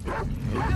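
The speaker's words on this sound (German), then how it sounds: "Scheiß Hund, Alter." Dogs bark in the video game The Last of Us Part II, several quick yipping barks close by and loud, with game noise under them.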